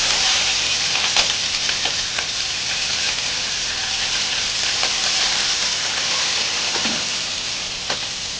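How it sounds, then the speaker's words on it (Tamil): Mustard seeds splutter in hot oil with curry leaves and chopped green chillies, a steady close sizzle dotted with small sharp pops throughout. "கடுகு வெடிக்கவும் நம்ம கருவேப்பிலை பச்சை மிளகாய் 4 பச்சை மிளகாய் கட் பண்ணி வச்சுருக்கேன், அதையும் போடணும்"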